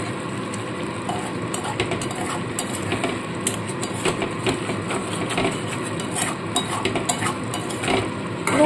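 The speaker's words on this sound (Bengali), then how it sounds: "এবার খুব ভালো করে কষাতে হবে" Chicken being stirred and sautéed with salt and a little sugar in a pan for Chicken Patiala, a spoon scraping and clinking steadily and close, with no talking.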